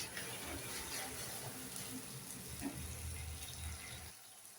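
Hot water drains off soaked cauliflower florets through a kitchen strainer in a steady, splashing stream that stops abruptly just before the end.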